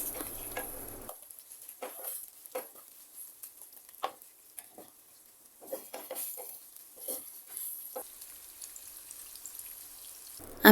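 Chopped onions, about a cup, fry in oil for a broiler chicken bhuna, a faint crackling sizzle broken by intermittent stirring clicks and scrapes of a spoon in the pan.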